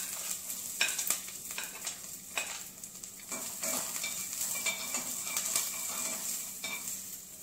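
Onion sautéing in a few drops of olive oil over high heat, a soft steady sizzle under repeated stirring scrapes and light utensil taps, close and fairly quiet, no talking.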